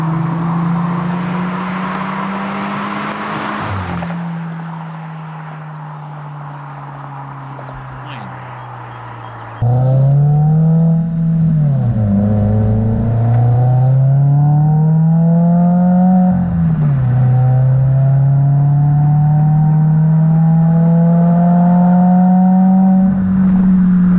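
A Subaru WRX fitted with an Invidia R400 catback exhaust revs repeatedly, its loud exhaust note rising and falling in several long sweeps after a steadier idle, with a high whine in the first half.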